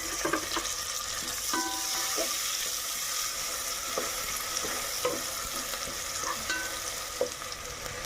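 Tomatoes sizzle and fry steadily in a pan for Andhra-style Bombay ravva ganji, with occasional scrapes and clicks of stirring over a constant close hiss.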